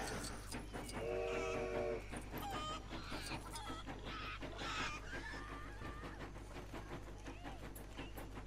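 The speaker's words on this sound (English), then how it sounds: "So now the train can go." A toy-built train pulls away in the LEGO Dimensions video game, set in a Wild West level, with rhythmic chugging and a bright whistle-like tone over game music and clucking chickens, fairly loud throughout.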